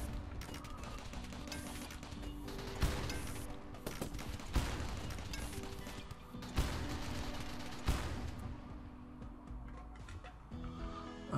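Gunfire in the RimWorld strategy game, a faint continuous rattle of shots with several sharper cracks standing out every second or two against a busy low background.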